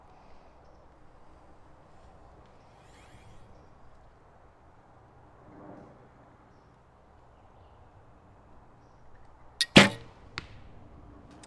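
A Sebastien Flute Newtron recurve bow with mid-level limbs is shot once, giving a sharp snap and thump near the end after quiet outdoor rustle.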